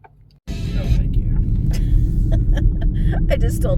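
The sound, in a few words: cars passing on the road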